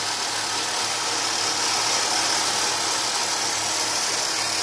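A 1/12-scale JRL 1965 Ford Mustang RC car motor whines with a continuous, loud hiss-like buzz that holds steady for several seconds under power.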